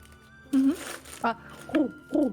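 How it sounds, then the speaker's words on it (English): Distant owls hoot in a series of four short calls, faint against a quiet background. "You can hear in the distance owls again."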